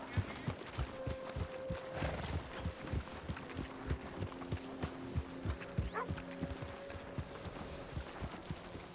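Horse hooves in Red Dead Redemption 2 clip-clop in a steady, even rhythm, close by and fairly quiet, with a voice speaking over them at points.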